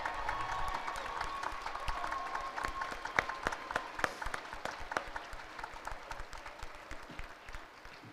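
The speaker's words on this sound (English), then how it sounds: "Everyone, please join me in giving them a round of applause." Sustained applause from a graduation audience honoring the school staff, dense clapping at a steady level throughout with a few sharper claps standing out and no talking.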